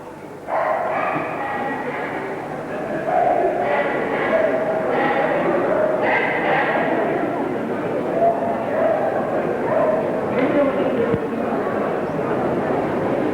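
Several Staffordshire Bull Terriers bark and yip intermittently at a dog show in a busy indoor space, with a murmuring crowd and voices underneath.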